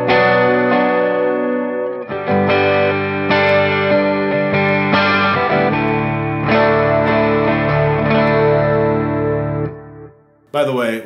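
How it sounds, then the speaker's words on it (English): Electric guitar in drop D tuning with a rock clean tone, chorus effect and neck pickup through a Line 6 Helix, strumming sustained chords that ring out, loud and close, with a brief cut at the end. "you get a little chorus because it's rock clean"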